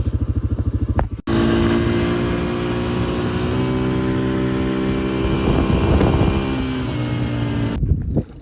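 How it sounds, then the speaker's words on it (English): An ATV quad bike cruising across salt flats in the Andes, its engine droning steadily and loud with shifting pitch and wind rush, after a brief rough idle at the start. "I'm on the ATV, I'm cruising across the salt flats."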